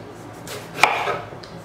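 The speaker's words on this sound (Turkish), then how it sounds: "Birer parmak aralıklarla kesiyorum." A single sharp knife chop slicing through an eggplant, with faint kitchen background before and after.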